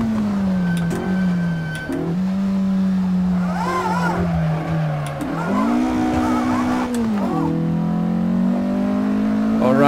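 A 1957 Porsche 718 RS 60 Spyder racing in Assetto Corsa, its engine note rising and falling through gear changes, with tire squeal in the corners, loud and close, no talking.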